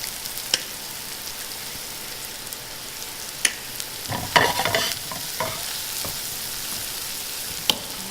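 Vegetables sauté lightly in a pan with salt and pepper, a steady soft sizzle under scattered clicks and scrapes of stirring, with a brief louder burst of stirring partway through.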